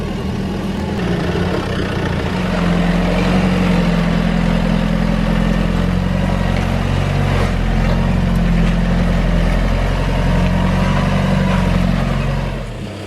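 A 4WD engine works under throttle as the vehicle crawls and scrapes over rocks on Lake Cumberland Track in Tasmania. A steady, loud low drone with rising and falling revs holds throughout and fades slightly at the end, with no talking.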